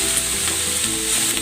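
Shredded chicken sizzles and fries steadily in a pot for chicken sotanghon soup, a continuous close crackling hiss without pauses.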